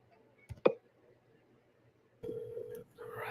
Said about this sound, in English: I'm dialing a seller.